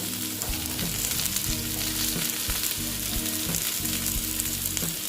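Mixed vegetables with pumpkin sizzling and frying in hot oil in a pan for a pure-veg mixed vegetable dish, a steady dense crackle with occasional stirring scrapes, close and continuous, no talking.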